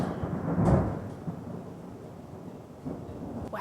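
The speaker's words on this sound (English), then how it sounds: "Wow, this thunderstorm." A thunderstorm's deep rumble of thunder, swelling to a loud peak early, then rolling on more quietly over a steady wash of rain, with a faint crack near the end.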